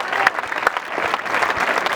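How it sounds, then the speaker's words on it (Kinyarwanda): A church congregation claps for a pastor: dense, steady applause from many hands, close and continuous throughout. "Tuyongera amashyi menshi cyane aho Imana igereje ukora,"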